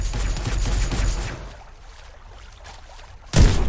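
Gunfire in the top-down shooter game surviv.io: a rough burst of shots rings out first, then a quieter lull, then one sharp, loud report near the end.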